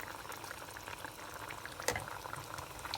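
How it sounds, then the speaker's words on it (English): Red chutney paste boils uncovered in a pan, bubbling and popping softly and steadily, with one louder burst near the middle. "boil it and let it cook it for 3 to 4 minutes without covering it"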